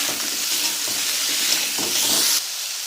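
Diced potatoes are stirred in hot oil, a loud, close hissing sizzle broken by scraping stirs, with the sizzle briefly flaring near the end and no talk.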